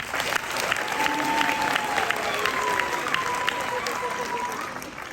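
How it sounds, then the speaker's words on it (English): Sustained audience applause at a summit talk event, dense clapping that swells and then fades, with a voice faintly audible underneath. "Let's give them another hand clap."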